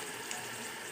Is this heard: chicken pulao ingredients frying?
yes